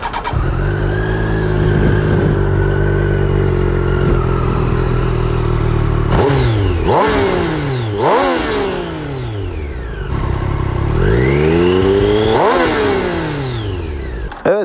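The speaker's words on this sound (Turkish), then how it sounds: "Size egzozu bir de şöyle göstereyim." A 2018 Triumph Street Triple R motorcycle idles, then its exhaust is revved hard several times, each loud, close rise climbing sharply and falling back, with a steady rumble between the bursts.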